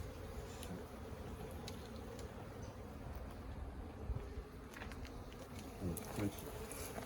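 Honeybees buzz continuously around the listener at a colony in a long Langstroth hive, a dense humming drone with faint thumps and rustles mixed in.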